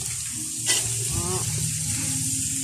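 Chayote pieces stirred in a home kitchen pan, a steady sizzle of frying under scraping utensil strokes, with a brief louder clatter near the start.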